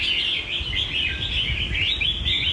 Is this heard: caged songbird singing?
yes